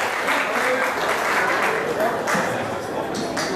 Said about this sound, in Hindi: उनको तालियां द्वारा हम धन्यवाद देंगे।